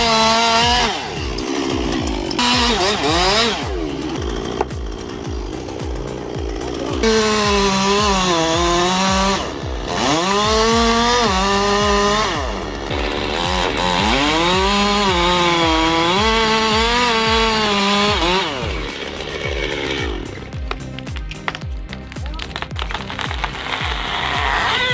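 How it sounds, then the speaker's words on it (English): A roaring chainsaw carves through a massive tree trunk, its engine revving up and down in repeated loud surges over about twenty-five seconds, close and continuous, with no talk. "commands a roaring chainsaw, carving through massive timber with flawless precision"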